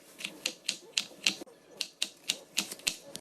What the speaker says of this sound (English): right now I'm about to cut seasoning for some quick and easy dirty rice.